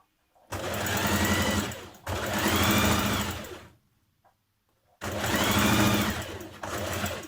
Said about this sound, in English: you're going to stitch down the centre seam down to the large dot here